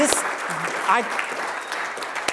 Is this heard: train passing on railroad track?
no